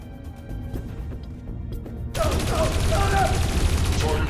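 Gunfire in the video game Dreamfall Chapters: a dense, sustained crackle of rapid shots breaks out abruptly after about two seconds of quieter clatter and keeps going loud and close to the end.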